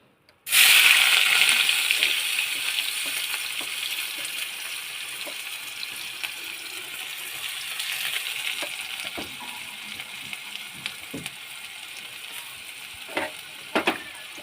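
Onion dropped into hot oil for dhaba-style chicken keema bursts into a loud sizzle that slowly settles into a steady hiss of frying, with occasional spoon scrapes and taps against the pan toward the end.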